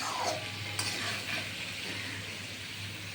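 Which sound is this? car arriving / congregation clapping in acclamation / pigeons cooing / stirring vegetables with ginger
stirring vegetables with ginger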